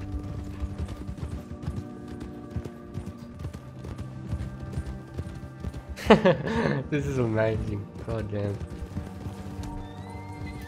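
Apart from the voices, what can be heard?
donkey hooves clopping and whinnying in Red Dead Redemption 2 video game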